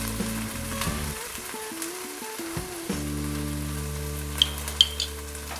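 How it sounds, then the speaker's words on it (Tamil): Ginger and garlic sautéing over medium heat for jeera ghee rice, giving a soft continuous sizzle with light stirring and a couple of small clinks, heard alone under background music. "கொஞ்சம் மீடியமாக வதக்கிக்கங்க இஞ்சி பூண்டை"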